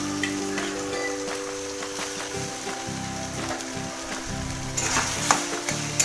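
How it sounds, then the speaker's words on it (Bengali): Spice paste with onions, chili paste, dry chili powder and garam masala sizzles and fries steadily in a pan for a jackfruit curry, with occasional stirring scrapes. "এইভাবে আমি কিছুক্ষণ কষিয়ে নেব মশলাটাকে।"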